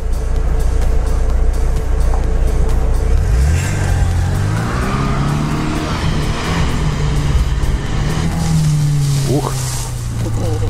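A Lada Niva 4x4 stuck in deep mud, its engine revving up and down as the rear wheel spins freely, loud and near, with people talking over it.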